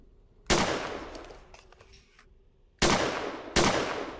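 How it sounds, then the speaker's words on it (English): Three loud, sharp shotgun blasts from a Gorilla Tag mod game, the first followed by a longer decaying tail and the last two coming in quick succession, with no talking. "we got a shotgun"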